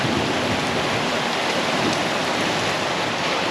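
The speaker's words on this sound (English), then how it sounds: "And it also started raining." Steady rain pours down continuously, a dense hiss of drops hitting surfaces nearby with no pauses.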